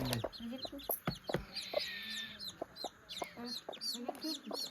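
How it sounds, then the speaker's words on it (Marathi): Soft clucking from a hen mixed with many high, rapid peeping chirps of newly hatched chicks, close by and continuous, with faint background noise. "छान असे पिल्ले आहेत"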